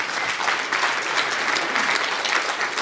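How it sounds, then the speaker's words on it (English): A conference audience at a Defcon Social Engineering Village talk gives a round of applause, with dense, steady clapping that holds at an even level the whole time. "I think that deserves a round of applause right there."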